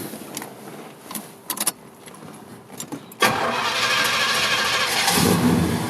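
1971 Pontiac LeMans T37 being started: faint clicks and key jingles from inside the car, then the engine cranks and catches abruptly into a loud, steady idle that holds to the end.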